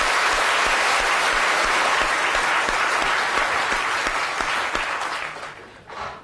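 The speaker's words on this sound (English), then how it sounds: "Big round of applause." An audience at a live science demonstration claps loudly and steadily for several seconds, the applause gradually thinning and fading out, with a brief final burst of claps near the end.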